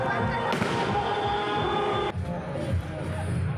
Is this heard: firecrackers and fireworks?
yes